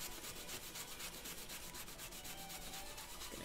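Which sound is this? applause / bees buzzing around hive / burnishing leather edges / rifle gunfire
burnishing leather edges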